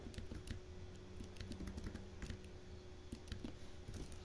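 Code being typed on a computer keyboard: quiet, irregular clusters of crisp key clicks heard close, with a low steady hum underneath and no talk.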